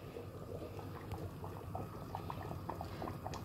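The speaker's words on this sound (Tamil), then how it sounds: "இப்படி கொதிக்குது பாருங்கள்" Sambar simmers in a stone pot (kal chatti), giving a soft, steady bubbling with small pops and gurgles, faint and close, with no talk over it.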